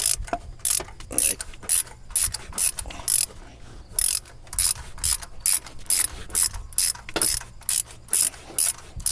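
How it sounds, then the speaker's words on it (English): A ratchet turns a spark plug on an Acura MDX / Honda Pilot engine, giving quick repeated bursts of sharp metallic clicking in a steady back-and-forth rhythm, close and clear with no talking. "Put the ratchet on."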